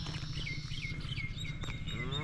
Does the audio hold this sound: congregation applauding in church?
no